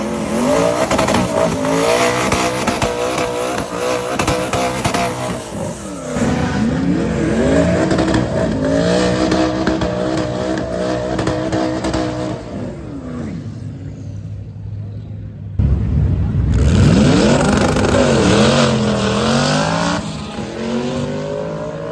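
A twin-turbo Ford Mustang S197 makes a quarter-mile drag run, its engine roaring loudly and continuously with rising and falling revs through gear changes. A brief lull comes partway through, then the engine surges back at full volume.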